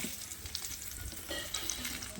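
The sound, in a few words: raw mango pieces poured into hot oil, sizzling while stirred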